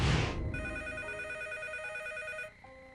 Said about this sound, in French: Décrochez le combiné pour savoir qui est à l'appareil.